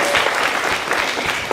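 A round of applause from the audience at a live variety show for three Spamalot performers, loud and dense clapping throughout with a crowd feel.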